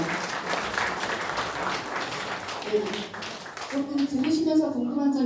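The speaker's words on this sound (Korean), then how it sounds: "멋진 강의 해주신 의원님께 다시 한번 큰 박수 부탁드립니다." Audience applause at the close of a lecture during a political academy session, a dense steady clatter of clapping for several seconds that thins out as a voice begins speaking over the fading claps.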